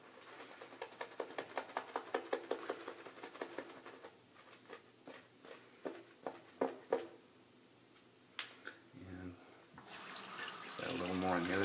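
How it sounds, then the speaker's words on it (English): Water trickles and splashes into a shaving soap lather in a scuttle, a run of quick close drips and pours that fades, then returns as a fuller rush of running water near the end. "Let me just add a little water to it just for good measure."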